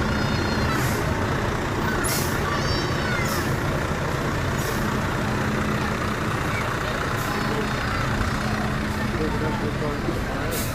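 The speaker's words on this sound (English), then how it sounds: "The kids must be so excited to see all these big trucks." Fire department trucks roll past in a Halloween parade, with a steady heavy diesel rumble, crowd noise and short bursts of air-brake hiss or horn blips spaced through the passage, under some voices.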